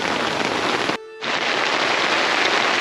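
Heavy rain pours down in a dense, continuous hiss, broken by a very brief dip in the middle.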